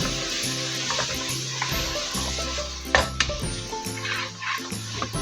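Potatoes frying in a pan for an aloo keema dish, giving a steady close sizzle with a few stirring scrapes and utensil knocks, and no talk.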